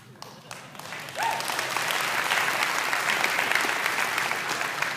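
Audience applause breaks out at a public talk on poverty and wealth after a short, quiet lead-in, then holds as a dense, steady wash of clapping from a sizable crowd for the rest of the clip.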